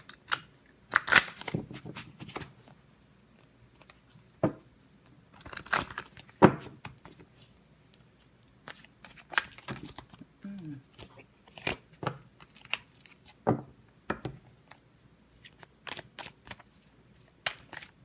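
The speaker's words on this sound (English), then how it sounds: "One more shuffle, and we're going to cut the deck." A deck of tarot cards being shuffled, with irregular bursts of crisp riffling and slapping close up, scattered across the stretch between quieter pauses.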